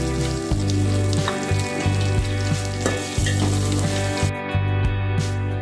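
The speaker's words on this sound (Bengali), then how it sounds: "ঘিয়ের মধ্যে আমি দেব জিরে, তেজপাতা, এলাচ, দারচিনি" Cumin, bay leaf, cardamom, cinnamon and ginger frying in hot ghee for dalia, a steady close sizzle with bursts of crackle as spices hit the fat, occasional stirring clinks, no talking.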